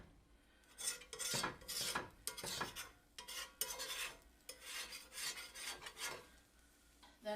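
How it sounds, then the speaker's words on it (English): Pizza sauce with seasonings being stirred in a pot: a spoon scrapes and swishes in repeated uneven strokes with occasional clinks against the metal, close and fairly quiet, with no talking. "I'm gonna stir it. Get all those pizza seasonings flavored in."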